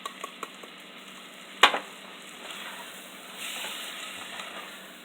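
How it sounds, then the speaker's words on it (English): Canned green chilies, juice included, go into a hot soup pot with one sharp hit and a brief burst of sizzle, followed by a quiet, steady hiss and faint stirring. "now I'm going to add our green chilies, and I left the juice and everything in them"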